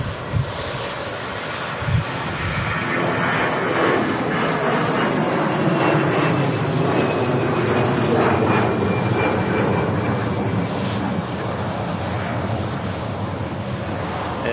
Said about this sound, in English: There's the Austrian Embraer.